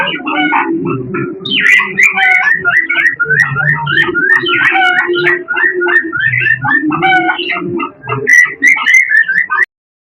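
Pet birds kept in a home studio call continuously, a close, loud chorus of repeated whistling and cooing notes overlapping with one another, stopping abruptly at the end.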